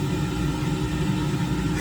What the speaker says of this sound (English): what that noise you hear is the heater working